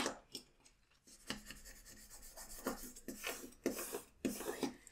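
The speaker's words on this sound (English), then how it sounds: "we really want to give them a good scrape with a bit of pressure" Scraping adhesive vinyl transfer tape with firm pressure: irregular scratchy strokes and rubs, close but soft, with several sharper scrapes toward the end.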